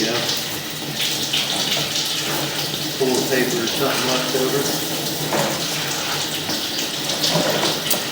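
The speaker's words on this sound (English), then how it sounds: "obviously we're running water" Shallow water running through a residential drain pipe in Cincinnati, Ohio, during a camera inspection of the line: a continuous close gurgling rush, with someone talking over it.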